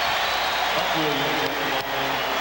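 Basketball arena crowd at the 1992 NBA Finals between the Chicago Bulls and Portland Trail Blazers, a steady broad roar reacting as Scott Williams checks in, with a faint voice running through it.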